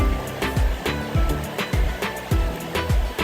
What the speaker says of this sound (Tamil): மழை பெஞ்சிருக்கோ, தண்ணி நிறைய வருதுங்க. அழகா இருக்கு ஃபால்ஸ்